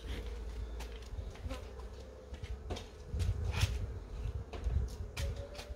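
Honey bees buzzing steadily inside a hive colony in cold weather, a dense continuous drone with individual bees flying close past, no talk.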